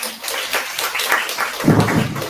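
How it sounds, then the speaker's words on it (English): Lecture audience clapping in a hall, a short scattered round of applause rising briefly and then fading within a couple of seconds. "Please give her a big round of applause."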